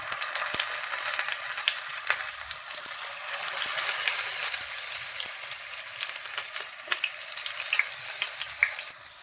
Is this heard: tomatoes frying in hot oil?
yes